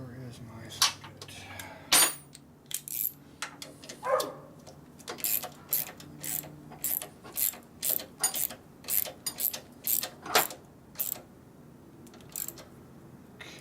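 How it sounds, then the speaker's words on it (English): Ratchet socket wrench clicking in quick bursts while torquing big nuts on a 1965 Harley panhead 74ci engine, close metallic ticks with clinks of tools and brief talk. "So we get these big nuts up under here that we're just torquing."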